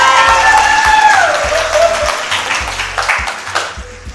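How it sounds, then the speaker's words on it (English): Loud audience clapping at a pop-the-balloon dating show in Port Harcourt, dense crowd applause rising over a fading musical tone with rhythmic low beats underneath. "Clap now!"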